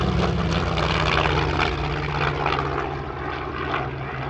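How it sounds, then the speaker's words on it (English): Raptor Aviation's FW-190 warbird, modelled on a 1944 original, roars past at an airshow, its piston engine and propeller producing a loud, continuous throbbing drone that eases slightly toward the end. "one of the most sought-after warbirds in Australia, Raptor Aviation's FW-190"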